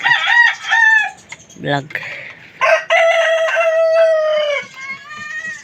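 Gamecock roosters crowing repeatedly at close range, loud drawn-out calls one after another with some clucking between them, while someone speaks briefly.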